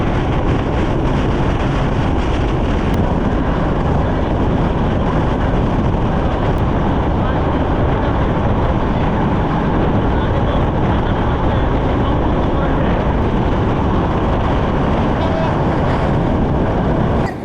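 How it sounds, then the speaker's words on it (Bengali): Heavy, continuous rumble inside the Rupsha Bangla Express as it rolls onto the Kalna bridge in Bangladesh. The dense, loud roar stays constant throughout, with no pause or clear rhythm. "এখন আমাদের ট্রেন প্রবেশ করবে কালনা ব্রিজে।"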